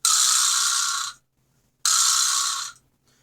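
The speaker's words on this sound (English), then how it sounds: "So that's the Vibraslap." Two long rattling buzzes from a vibraslap, each lasting about a second and fading out, separated by a short silence.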